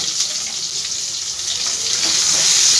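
Eggplant pieces frying in a pan for a Bengali masala begun dish, a steady bright hiss of sizzling oil that swells slightly louder toward the end, with no talking.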